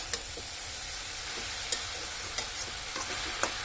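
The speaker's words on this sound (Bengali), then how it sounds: "এখন ভালোভাবে নাড়াচাড়ার মধ্যে থাকতে হবে" Melting sugar and jaggery for a chalta (elephant apple) pickle are stirred in a pan, giving a soft steady sizzle with several sharp scrapes and taps of the spoon against the pan.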